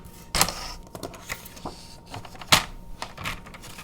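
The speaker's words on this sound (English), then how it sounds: "So I'm going to be bringing in my trimmer, and this also scores." A paper trimmer scores cardstock for a fold card in a few sharp, separate clicks and scrapes, close and fairly quiet, with gaps of near-silence between them.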